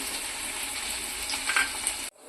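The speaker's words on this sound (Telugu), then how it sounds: "సన్నగా తరుపుకుని మనం ఆయిల్లో ఫ్రై చేసుకున్నాం" Sliced onions and green chilies fry in about three spoons of oil for a curry, giving a steady, close hiss of sizzling that cuts off abruptly near the end.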